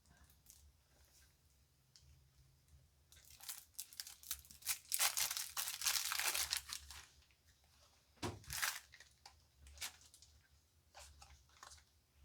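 Plastic wrapping is torn and crinkled off a stack of Mosaic Colossus Edition board game cards, with quiet rustling bursts and a sharp crackle near the end, all close up.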